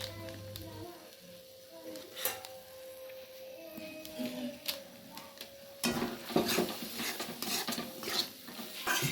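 Ground spices being mixed in a pan for egg biryani, heard as irregular spoon scrapes and clinks against the metal, sparse at first and then busier and louder in the second half, with no talking.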